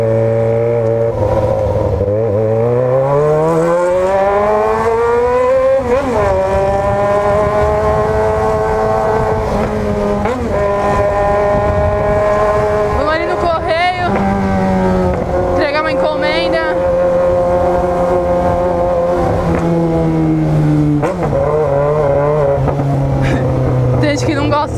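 Inside a tunnel, a car with a 4x1 straight-pipe exhaust revs repeatedly, its loud echoing engine pitch climbing and dropping in several pulls with sharp crackles between them, while people talk intermittently.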